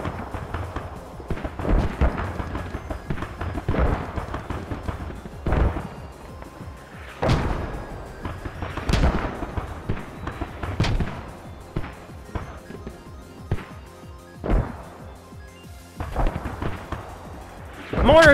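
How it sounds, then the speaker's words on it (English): Mortar fire in the tactical shooter Squad during a tournament match, a steady series of distant booms and thuds spaced every second or two over constant background noise and voices. "Mortar is being activated to the north side."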